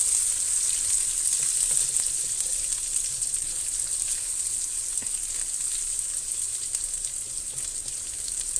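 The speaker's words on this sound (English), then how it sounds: "Okay, we're going to fry the ingredients well in the oil." Garlic and chili ingredients for nasi goreng frying in oil over low heat, a continuous fine hiss and sizzle with occasional light stirring clicks, alone and close.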